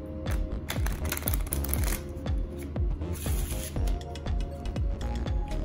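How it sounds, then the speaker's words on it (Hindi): A blue deck of playing cards being shuffled up close, a run of rapid riffling bursts and crisp flutters repeating in quick rhythm, fairly quiet, with no talking. "ब्लू डेक को शफल कर देता हूँ"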